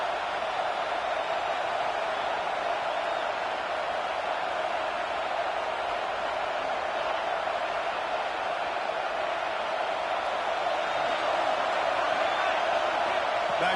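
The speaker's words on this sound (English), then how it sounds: "Man, this crowd really affecting the football game." A home crowd roars continuously in an American football video game, a dense, loud, even wall of cheering that never lets up across the whole stretch.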